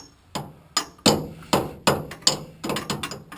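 A homemade hammer drives a rear coilover shock bolt through its mount on a car, seven sharp metallic blows landing at a quick, slightly uneven pace, close by, with short ringing decay after each strike.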